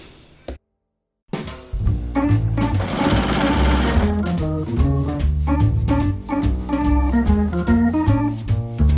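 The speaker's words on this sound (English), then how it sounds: "simply sew those together with our quarter inch seam" Sewing machine stitching quilt fabric pieces together with a quarter inch seam, a loud steady rapid whirring run that starts after a brief pause and continues to the end.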